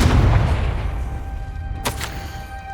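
A Confringo fire spell blast in the game Hogwarts Legacy, a heavy booming impact at the start with a rumbling decay, then a brief crackling burst shortly after.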